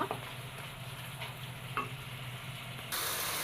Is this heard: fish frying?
yes